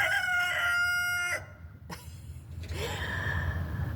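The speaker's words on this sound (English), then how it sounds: "the rooster crows" A rooster crows loudly nearby, a long drawn-out cock-a-doodle-doo with harmonic tones, followed by quieter outdoor ambience and a faint rustle.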